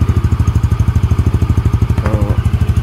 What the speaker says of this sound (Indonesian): Nah, suara mesinnya tuh knalpotnya enak banget.